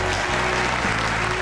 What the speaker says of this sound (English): applause breaks out around the room